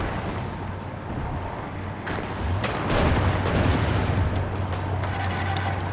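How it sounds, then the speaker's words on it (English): Naval bombardment from the French Navy in the Hearts of Iron 4 strategy game, a dense rumble of repeated booming artillery fire that swells louder midway and keeps rolling, close and continuous. "we're getting bombarded by the French Navy there"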